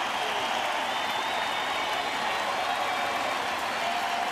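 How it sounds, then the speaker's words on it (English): A ballpark crowd at a baseball game rises in a long standing ovation, a broad, continuous wash of clapping and cheering heard from a distance, steady and even for several seconds, with a faint tonal hum running beneath. "This crowd will give him one really loud standing ovation."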